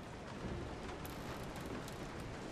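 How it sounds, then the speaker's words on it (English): Steady, dense rain pours throughout the Resident Evil 7 game scene, a constant hiss of drops at moderate loudness with no talking. "Right, it's raining."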